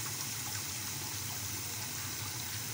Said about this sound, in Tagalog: Nilagyan ko siya ng sobrang init na tubig, as in bagong kulong tubig